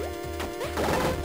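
Stained glass block rocks smash in the video game Dig Dog, making crunchy crashing bursts over a steady electronic game tune with rising blips, with no voices.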